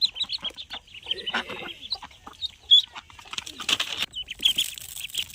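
Chickens cluck and chatter nearby, with ducks and ducklings also feeding, amid pecking and scattered pattering of rice feed, with busy poultry sounds throughout and no talking.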